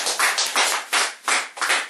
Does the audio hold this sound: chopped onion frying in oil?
no